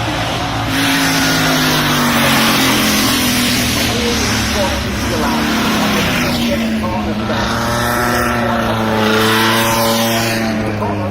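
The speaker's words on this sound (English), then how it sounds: "Now, the other cars are coming behind" Race cars roar past at the 2018 Goodwood Festival of Speed, their engine notes rising and falling close by over a constant crowd-and-track din, with a voice talking over it.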